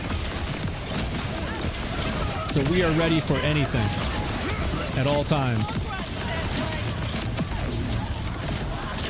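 Shoulder cannons and a gun fire without letup in the Borderlands 4 video game, a dense rattle of shots and impacts under someone talking throughout.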